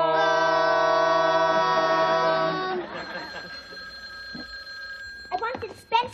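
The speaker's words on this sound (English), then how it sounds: "Phone." Telephone bell rings loudly and steadily for about three seconds, then stops, followed by people talking and a few clattering knocks.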